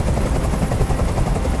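Helicopter hovering in the video game Detroit: Become Human, a loud, dense rotor thrum with steady rapid chopping that fills the scene continuously and close, with no voices.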